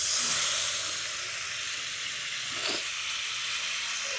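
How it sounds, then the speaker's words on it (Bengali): Soaked mung dal tipped into hot oil with fried spices, making a loud, steady sizzle and hiss. A brief stirring swell rises midway before the frying settles back to an even crackle. "এরপর আমি যে মুগ ডালটা ভিজিয়ে রেখেছিলাম সেই মুগ ডালটা দিয়ে দিচ্ছি।"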